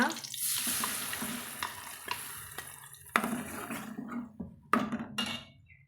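Masala is stirred into fried onions in a pan for okra curry, then water is poured in: soft scraping, light sizzle and a few sharp utensil clinks, all fairly quiet.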